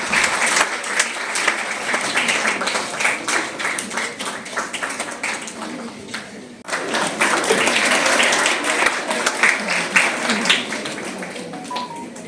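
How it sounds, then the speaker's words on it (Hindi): Sustained audience applause at a national science centre event fills the space, loud and dense with many hands, dipping briefly midway before swelling again; a faint voice surfaces near the end. "निरंतर आप तालियां बजाते रहेंगे"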